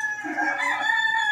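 Boston Roundhead cross rooster crowing, one full drawn-out crow that is close and clear, with no talking.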